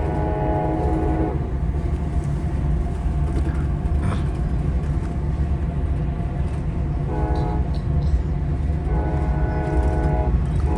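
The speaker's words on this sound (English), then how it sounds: "There you can hear the horn of our SC-44 Siemens Charger locomotive 2124." Aboard a Capitol Corridor passenger train, the horn of its Siemens SC-44 Charger locomotive sounds in several blasts, with one long blast at the start and two later ones, over a steady rumble of the rolling cars.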